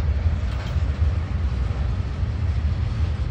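A BNSF freight train hauled by an ES44AC locomotive rumbles steadily past up close in Houston, Texas, a continuous low, heavy roar with faint rattling and no voices.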